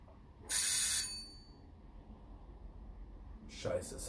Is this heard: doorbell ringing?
yes